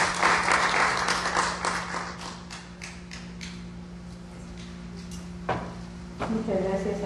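Loud audience applause at a legal seminar for a labour-court judge taking the stage, a dense burst at first that thins out over several seconds, with a steady hum beneath and a voice starting to speak near the end.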